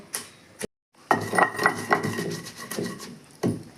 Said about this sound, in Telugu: ఇట్లా రోడ్లు దంచుకుంటే చాలా బాగుంటుందండి